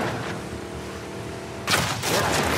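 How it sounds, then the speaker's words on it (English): An enemy in The Last of Us Part 2 opens fire, a loud burst of gunshots cracking in after a low steady background, followed by another short volley. "Watch out for the guy shooting at you."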